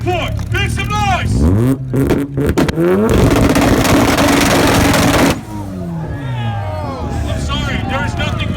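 Loud revving of an import car's exhaust at a Toyota car show exhaust battle, a sustained roar for a couple of seconds before cutting off, with a crowd and an announcer's voice around it.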